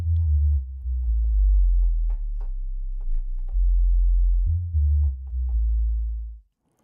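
A synthesizer's second oscillator plays alone without an envelope, giving a low, steady sine-like drone that switches pitch a few times and then stops abruptly, with faint clicks over it.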